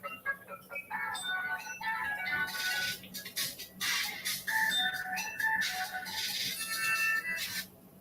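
A melodic phone ringtone chiming a bright tune of repeated electronic notes, moderately loud and continuous for several seconds in a quiet room.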